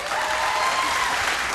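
Audience applause at a televised singing competition band introduction, steady dense clapping from a crowd, loud and continuous with no talk over it.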